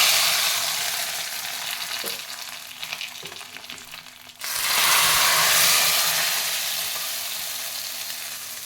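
Dried red chillies sizzle in hot tempering oil for sambar, with a loud, dense crackling hiss that swells abruptly midway and then holds steady, close up with no talk.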